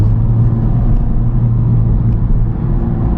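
Close, heavy low rumble of a Honda Civic Type R engine pulling in second gear in slow traffic, a steady droning whir with no pauses.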